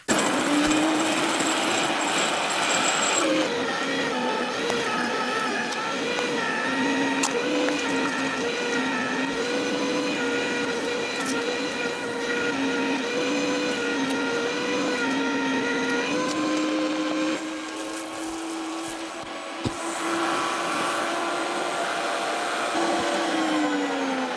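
Electric meat grinder with a fine plate mincing meat for homemade Fränkische bratwurst, a steady loud motor whine with a strained, slightly varying pitch, running continuously for over twenty seconds.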